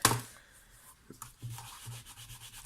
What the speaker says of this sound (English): with my Stampin' Scrub. Clean my stamp and put it away.